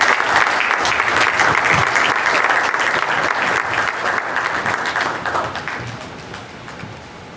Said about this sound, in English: Please can we give her a round of applause for her.